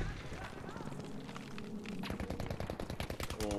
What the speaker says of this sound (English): Is that a tank shooting at me?